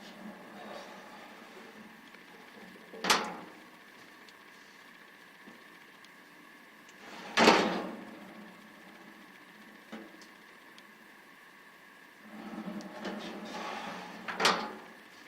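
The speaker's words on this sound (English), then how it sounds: "We'll take a look at that drawer slide, soft close." A drawer on a Craftsman 5-drawer rolling tool cabinet runs along its soft-close slide. Three distinct sliding swooshes are spaced apart over a quiet background.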